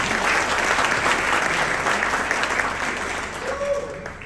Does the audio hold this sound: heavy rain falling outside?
no